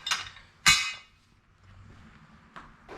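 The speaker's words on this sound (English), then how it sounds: "we'll loosen these two bolts on the dash to get this piece in" Work on a Sears Suburban snow blower's dash brings two sharp metallic clanks close by, like a wrench striking the bolts, followed by quieter handling and a couple of faint taps.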